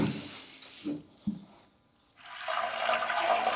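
Water poured onto ground paint pigment particles in a glass during traditional paint making: a close rushing pour that stops, a brief quiet gap, then a renewed steady hissing flow.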